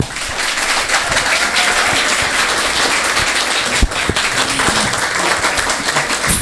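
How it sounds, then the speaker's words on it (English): Loud, dense applause from an election forum audience for a congressional district race, steady claps filling the whole stretch with a few sharper individual claps standing out. "let's hold our applause so that we can really get as many questions in as possible"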